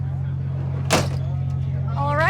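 A door aboard a tall sailing ship is pulled shut with a single sharp thump, heard over a steady low engine hum.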